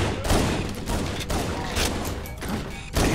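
Halo: Combat Evolved gunfire in a campaign firefight against enemies, with Marines nearby: repeated short volleys of shots separated by small gaps, moderately loud and near.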